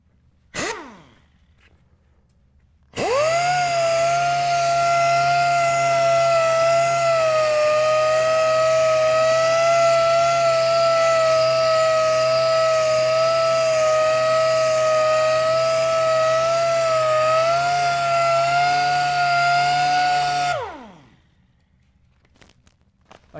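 A pneumatic air tool grinds rust, primer and enamel paint off metal with a loud, steady high whine lasting about seventeen seconds, starting and stopping abruptly.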